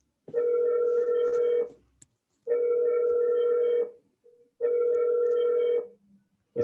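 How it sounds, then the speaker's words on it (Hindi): A phone rings during an online biology revision class, three long steady electronic tones of about one and a half seconds each separated by short silent gaps, loud and clear with nothing else over it. "इसका फोन बज रहा बेटा"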